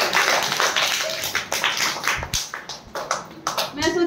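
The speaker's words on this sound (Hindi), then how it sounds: "तालियां बजाओ" Children in an Uttar Pradesh primary school classroom clap for a student, with bursts of quick, uneven, fairly close handclaps running through the whole stretch, slightly loose in rhythm.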